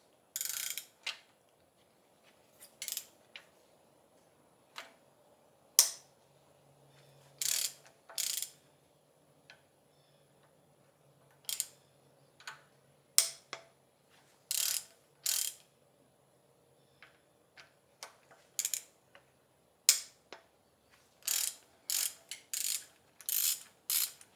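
Ratchet clicking in short bursts as an E8 inverted Torx socket loosens bolts on a BMW M54 inline-six engine during teardown, repeated sharp ticking spurts separated by pauses, close and clear with no talk.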